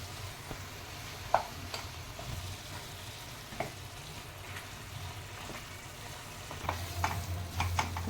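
Garlic paste stirs and fries in a pan for a spicy homestyle chicken pav bhaji, a steady close sizzle broken by scattered spoon scrapes and clinks, with no voices.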